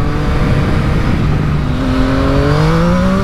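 A 2022 Yamaha MT-09 triple-cylinder motorcycle accelerates hard through the gears, its loud engine note rising steadily in pitch and rasping continuously under rushing wind noise.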